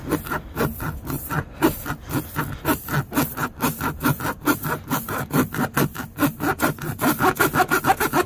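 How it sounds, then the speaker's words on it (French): Back-and-forth rasping as a tire repair kit reamer is worked through a puncture in a tire, a steady rhythm of rough scraping strokes, close and fairly loud, with no talking. "Donc pour limer, il faut juste faire du va-et-vient."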